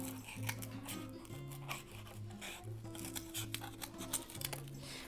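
Scissors cut out a mouth shape from cardboard, making quiet, close snipping and rasping strokes in a quick, irregular series over a faint background hum.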